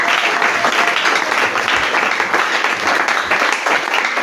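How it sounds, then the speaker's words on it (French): A church congregation applauds loudly and steadily during a worship service, dense sustained clapping with cheering filling the whole stretch without pause. "Est-ce que tu peux l'acclamer très fort?"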